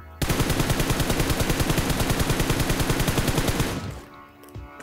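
A long, rapid burst of automatic gunfire in the game PUBG Mobile, loud and evenly paced for about three and a half seconds before cutting off into a faint tail, with no talk.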